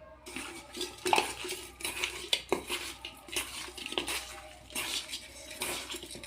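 Pieces of rohu-type fish are rubbed with turmeric and salt in a metal bowl, producing wet squelching, soft scraping and clinks of bowl and fingers in irregular bursts, close by.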